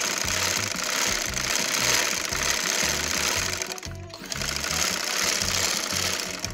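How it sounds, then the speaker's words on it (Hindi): Close and loud, a sewing machine runs a double line of stitching on a baby girl's dhoti salwar with a fast, pulsing mechanical whir. The run pauses briefly midway, then carries on alone. "अब इसके ऊपर हम डबल सिलाई लगा लेते हैं"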